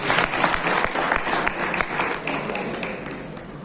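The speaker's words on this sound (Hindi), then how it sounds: "तो मैं चाहता हूँ कि यहाँ की जो गर्ल स्टूडेंट्स हैं उनके लिए एक बार जोरदार तालियां होनी चाहिए।" An audience at a school rangoli and poster competition event gives loud, dense applause for the girl students, steady throughout and fading slightly toward the end.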